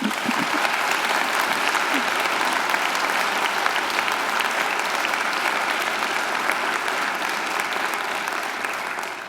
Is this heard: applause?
yes